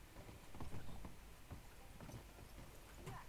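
Quiet, steady clip-clop of horse hooves at a trot in Red Dead Online, a rhythmic patter over a soft background hum.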